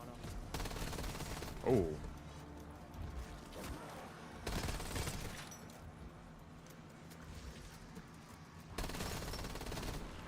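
Peacekeeper gunfire in the Black Ops 7 Zombies video game: several loud bursts of rapid shots, separated by quieter stretches of game noise, with a voice briefly reacting.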